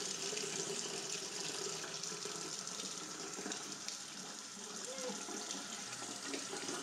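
Warm tap water runs steadily into a bowl in a continuous broadband rush, close by, with faint background voices now and then.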